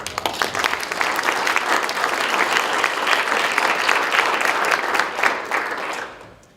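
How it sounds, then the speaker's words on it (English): Steady audience applause at a community education meeting, dense clapping sustained for about six seconds before tapering off at the end. "I think that deserves a round of applause."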